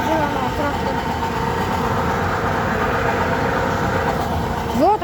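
A tractor engine runs at a steady, loud drone during road paving on a village street in Atyrau, with a brief rise near the end.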